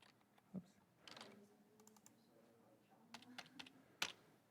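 Computer keyboard being typed on, scattered quick keystroke clicks in irregular bursts with pauses, fairly faint and close, ending with a sharper clack.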